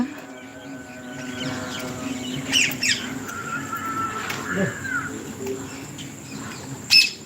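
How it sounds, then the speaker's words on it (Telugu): Parrots squawk and chirp from a guava tree, with harsh calls rising over a steady background of birdsong and a sharp, loud squawk near the end. "ఫుల్ జాంపళ్ళు ఫుల్ జా జాంపండ్ల కోసం చిలకలు"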